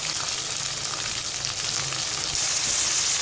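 Ginger garlic paste, tomato and green chili sizzle steadily in a hot pan, a loud continuous frying hiss with faint stirring scrapes and no voices.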